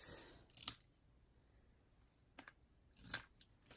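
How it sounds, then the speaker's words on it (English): Scissors snip the ends of a ribbon at a slant for a handmade butterfly ombre card, with a few crisp close cuts separated by quiet pauses. "I'm going to cut the ends at a slant."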